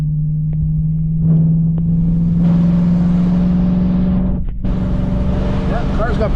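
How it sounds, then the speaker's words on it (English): Engine of a 1965 Ford Mustang convertible pulling away and accelerating through city streets in Montreal, a steady drone that rises in pitch, heard from inside the car with light road noise. "yeah, car's got pretty good pickup."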